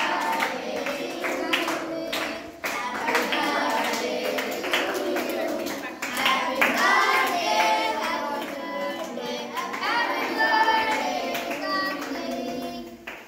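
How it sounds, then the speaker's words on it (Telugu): Guests at a child's ninth birthday party clap along in time while voices sing together, the hand claps close and uneven under the singing throughout. "ఓకే, అందరూ క్లాప్స్ కొట్టి పాట పాడండి."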